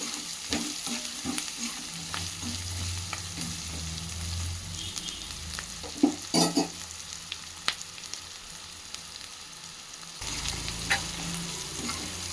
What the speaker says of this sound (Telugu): నేను కొంచెం ఆనియన్ ఎర్రగా అయిన తర్వాత నేను అటుకులు వేస్తానండి